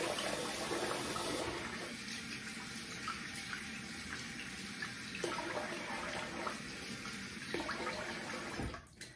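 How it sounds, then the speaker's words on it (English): Tap water runs steadily and fairly loudly into a bathroom sink while a face is rinsed, a continuous hiss with faint splashes shifting over about nine seconds and a small knock at the end. "So I'm gonna rinse the face."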